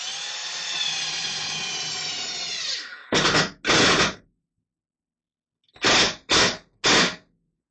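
Power drill driving screws into a turned pine wood bowl blank: one long steady whine for about three seconds, then short loud bursts, two together and three more after a gap, with no talking.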